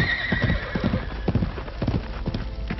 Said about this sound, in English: We follow horse, Kimo-san.